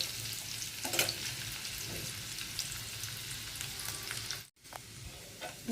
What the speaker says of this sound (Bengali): এখানে আরও কিছু পেঁয়াজ অ্যাড করে দিলাম আপনি পেঁয়াজটা একটু বাদামি কালার হইলে পরে